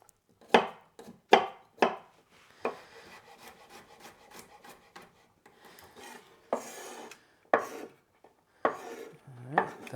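A knife chops garlic cloves on a board during meal prep, with sharp, close, irregular knocks in quick bursts separated by short pauses and softer scraping.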